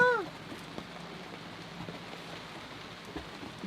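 Steady light rain patters on a surface where joint sealant has just been applied, a soft continuous hiss of drops heard close and fairly faint, with a brief tonal sound at the very start.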